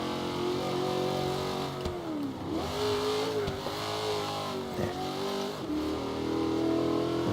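Chevrolet Nova engine drifting in Forza Horizon 3, a continuous loud, close revving drone whose pitch dips and climbs as the car slides and recovers, with no talking.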